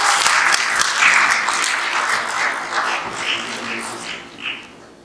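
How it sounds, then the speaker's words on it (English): An audience at a pitch event claps warmly, a full burst of many hands that gradually thins and fades, with a few whoops and voices popping up near the end. "Can we clap for them?"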